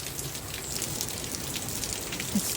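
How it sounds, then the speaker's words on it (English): Steady heavy rain falls on a garden during a massive California storm, a constant broad hiss of drops pattering on surfaces with no pauses, fairly soft and uniform throughout. "It's just rain."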